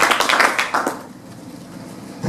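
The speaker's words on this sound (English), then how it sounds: "Would you give everybody who has been considered a big round of applause" An awards ceremony audience claps in a short burst of applause that fades out within about a second, leaving quiet room tone before a final soft thump.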